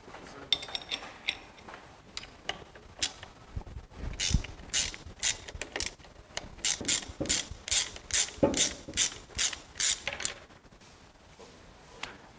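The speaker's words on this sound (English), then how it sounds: "Then we need also to open this bolt on the crankshaft so that we remove our pump easily." Ratchet wrench loosening bolts while an engine oil pump is removed, a series of sharp, close metallic clicking bursts that quicken into a rapid rhythmic ratcheting in the middle and toward the end, with no talk.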